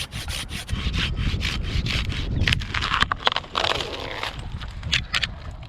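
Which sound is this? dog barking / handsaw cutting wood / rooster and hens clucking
handsaw cutting wood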